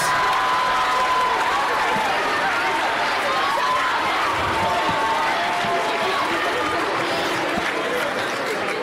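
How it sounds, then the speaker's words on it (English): School winter concert crowd applauds the EMS chorus with sustained clapping, cheers and children's shouts forming a steady roar, with chatter and a voice mixed in. "Can we get one more round of applause for the EMS chorus?"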